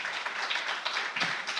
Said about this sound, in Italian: Ivan Scalfarotto, una persona che probabilmente meriterebbe un applauso a questo punto